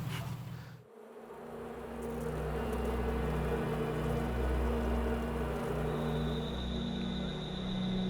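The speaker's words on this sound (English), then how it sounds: "Like Slade, she knows her bees, and they are feisty." A dense, steady buzzing of many honeybees swarming close by at a hive, a continuous droning hum with a low rumble underneath.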